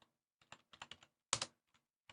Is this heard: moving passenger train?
no